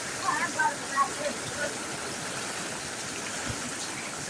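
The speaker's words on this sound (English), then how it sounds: "It's really pouring out there." Heavy rain pours steadily during a thunderstorm in Needles, California, a dense, even hiss of water close by with a few faint splashes early on.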